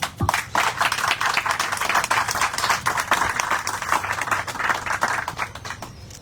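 Sustained applause from an audience at a writers' forum during a municipal book fair in Autlán, dense clapping holding steady throughout with no voices over it.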